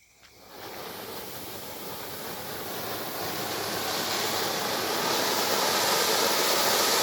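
An Ayyan Fireworks Dil Se flower pot fountain ignites and sprays, a rushing hiss that swells from a short quiet start and grows steadily louder, continuous and unbroken to the end.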